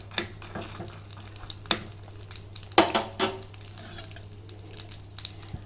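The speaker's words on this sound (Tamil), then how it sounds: "சுண்டைக்காய் வத்தல் 2 காஞ்ச மிளகா. இது நல்லா ஃப்ரை ஆகட்டும்." Dried turkey berries and dried chillies fry in ghee in a pan, with a faint sizzle under scattered clinks and scrapes of stirring. There is no talk.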